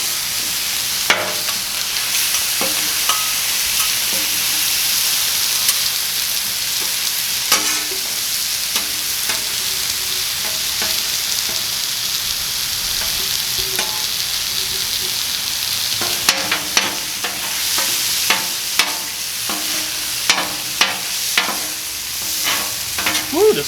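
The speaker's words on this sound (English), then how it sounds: "What I'm going to start doing is chopping this up a little bit." Continuous loud sizzling of steak on a hot Blackstone griddle with scattered metallic scraping and tapping as the meat is chopped and moved around for a Philly cheesesteak.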